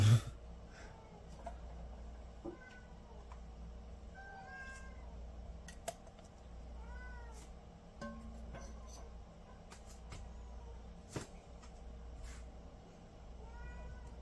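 Cats meow repeatedly in a kitchen where potatoes are being dry canned, several rising calls scattered across a low steady hum, fairly close but not loud.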